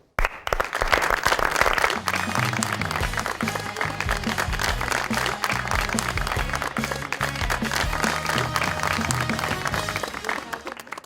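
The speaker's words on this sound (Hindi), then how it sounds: "बहुत सारी तालियों में उनको भी वेलकम कीजिएगा वशमा फातिमा साहिबा जी।" Studio audience clapping to welcome a guest on a television talk show, sustained and fairly loud, mixed with upbeat music that enters after a moment and continues underneath.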